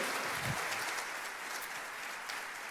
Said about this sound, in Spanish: Denme un aplauso para saber que están conmigo.